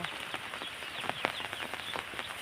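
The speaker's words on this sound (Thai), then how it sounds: "เช้านี้วันฝนตกของเราจ้ะ" Steady rain falling on a rainy morning, a dense continuous hiss with scattered sharper drips and patters close by, no voices.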